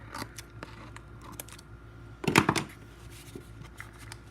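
Scissors make a series of light, quick snips through tape fixed to a gourd, scattered soft clicks with one louder, busier cutting burst near the middle, all close and quiet.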